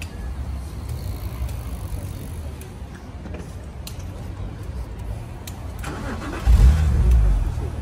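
BMW Z4 coupé engine starting nearby: a quiet idle-like background, then a sudden loud low-pitched catch and rumble near the end as the engine fires, with faint outdoor noise around it.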